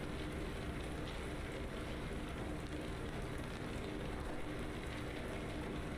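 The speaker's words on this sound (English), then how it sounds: "It's raining." Steady, dense rain hiss in a truck driving video game, a continuous broadband wash with low rumble beneath, even and unbroken throughout with no voices.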